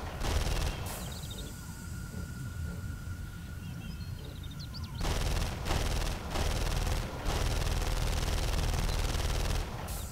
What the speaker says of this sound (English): They switched it out for the chain gun.